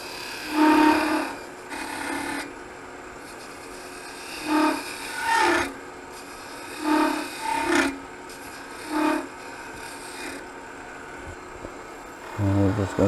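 A spindle gouge scrapes against spinning wood on a lathe while a mallet is being shaped, giving intermittent raspy cutting bursts of varying length with quieter gaps between.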